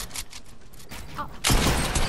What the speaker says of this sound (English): Look at these dudes shooting down.